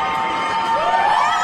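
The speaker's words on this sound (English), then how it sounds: "This is a very strong crowd for a home opener" A home opener crowd at an LIU Sharks vs. UMass Lowell men's college basketball game cheers loudly and steadily, with shouts rising near the end of the short burst.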